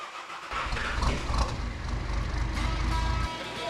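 A car engine cranks and catches after a fuel pump replacement, then settles into a steady, fairly loud idle running close by without a break.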